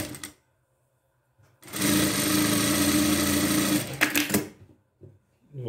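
An overlock machine stitches the side seams of a made-to-measure long dress, running in one steady, loud whirring burst of about two and a half seconds, with brief clicks and short runs before and after amid quiet pauses.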